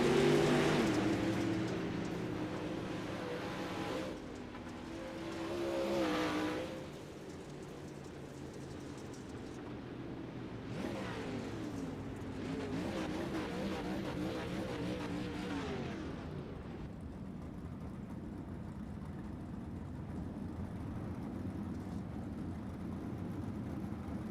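Dirt late model race cars roar around a dirt track at a championship race, a loud engine drone swelling as cars pass by, then settling into a steadier, more distant rumble.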